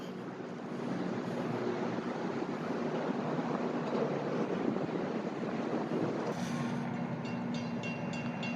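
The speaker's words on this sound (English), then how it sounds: "There's a South Shore train coming." A South Shore commuter train approaching near a toll road overpass in Gary, a steady low rumble rising in the background, partly masked by wind buffeting the microphone, with faint higher squeals near the end.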